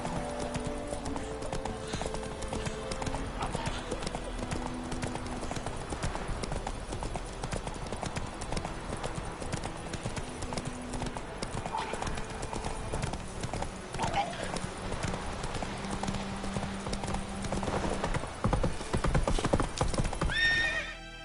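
Roach, the horse in The Witcher 3, trots with a steady clip-clop of hooves and an occasional whinny, running through the whole stretch beneath talking voices and a tonal game score.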